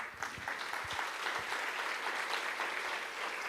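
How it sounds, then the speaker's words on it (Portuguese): Applause from a church congregation fills the room, a dense, steady wash of many hands clapping together at an even loudness throughout. "Dê um aplauso a ele."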